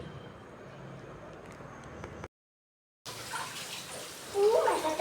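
Water splashing and running while a wet stone grinder is rinsed clean after grinding rice batter. The washing stops briefly partway through, then resumes with a louder splash at the end.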